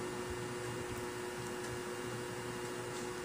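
A hot air blower heats the screen of a Samsung flip phone during repair, giving a steady, loud whooshing drone with no pauses and no talk.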